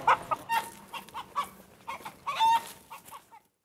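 Chickens cluck in sharp, excited bursts at close range, a rapid string of squawks and calls with short gaps between, fading to quiet at the end.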